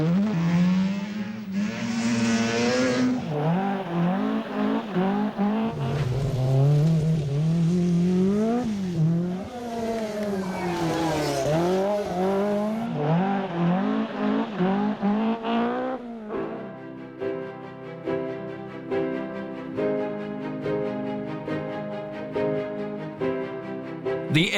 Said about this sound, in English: Mazda's RX-7 was another new design that enriched the scene, its rotary engine adding yet another sound to the already diverse motor music.